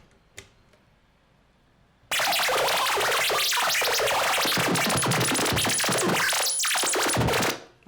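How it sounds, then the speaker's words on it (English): Moffenzeef Deviant modular synth module modulating at its fastest rate, a loud, dense, buzzing warble that starts abruptly after a couple of seconds of near silence and runs steadily before cutting off. "It won't go to audio range, but it'll go to really effed up warbly range"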